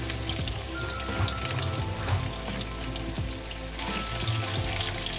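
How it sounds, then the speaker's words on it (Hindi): Cubes of paneer fry in about 100 grams of hot oil for a fried paneer curry, giving a steady, close crackling sizzle with scattered pops and no voices. "इसको पनीर को हम तलेंगे, क्योंकि हम फ्राई पनीर की सब्ज़ी बना रहे हैं"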